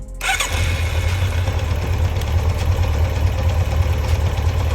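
A hot motorcycle engine restarts with a quick burst, then settles into a loud, steady, throbbing idle that carries on without interruption, during carburetor synchronization.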